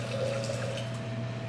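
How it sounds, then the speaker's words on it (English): Lemon juice poured into a Tom Collins cocktail with gin: a short, soft, steady liquid trickle lasting under two seconds, fairly quiet over a faint hum. "I'm going to add 1 ounce of lemon."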